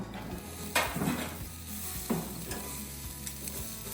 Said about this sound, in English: we're gonna sear that sucker for about 30 to 40 seconds